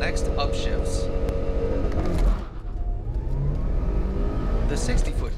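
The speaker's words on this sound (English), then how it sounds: "Step on the gas pedal firmly with your right foot so the RPM rises quickly" A Mitsubishi Evolution SE's engine revs hard and accelerates under firm throttle, a loud rising roar with a brief dip and shift before climbing again, heard up close.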